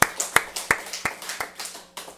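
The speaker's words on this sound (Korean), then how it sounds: "우리 하나님께 영광의 박수 올리겠습니다" Congregation in a Korean church service giving a round of clapping in praise, a loose series of sharp claps at an uneven beat that quickly thins out.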